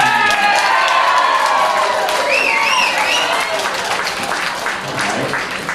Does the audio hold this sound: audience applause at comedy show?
yes